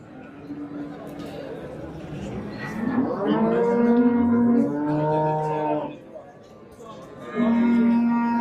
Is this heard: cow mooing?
yes